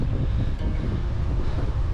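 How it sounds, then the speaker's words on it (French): Heavy wind blasts the microphone while cycling the ViaRhôna route toward Aigues-Mortes, a loud, continuous low-frequency roar and rumble with no voices. "il y a vraiment beaucoup de vent"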